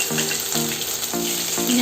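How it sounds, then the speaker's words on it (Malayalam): Crushed ginger and garlic hitting a hot pan for Kerala-style cooking: a brief, steady, loud frying hiss with a few repeating tonal pulses, no voices. "അപ്പോൾ ഇതിനകത്തേക്ക് നമ്മൾ ഇഞ്ചി വെളുത്തുള്ളി പേസ്റ്റ് അല്ല ചതച്ചത്, ഇഞ്ചി വെളുത്തുള്ളി ചതച്ചത് ഇട്ട് കൊടുത്തു."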